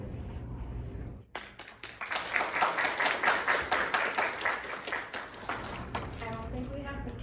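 Audience at a women in tech panel discussion bursts into a short round of clapping after a speaker finishes, the applause rising quickly and then tapering off, with talk heard before and after it.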